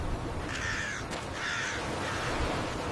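Crows caw twice, clear and moderately close, over a steady outdoor hiss.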